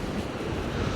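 Surf rolling in on the incoming tide at Walton on the Naze beach, a steady broadband wash of waves mixed with buffeting wind noise on the microphone, continuous with no talk.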